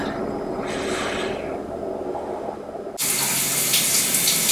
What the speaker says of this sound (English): It feels good to shower.